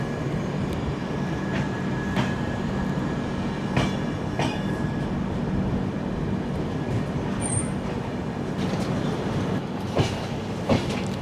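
Trivandrum Veraval Express rolling out of Keshod station, a steady near rumble of wheels on track with periodic clickety-clack joint knocks and a brief high squeal, continuous throughout with no talk.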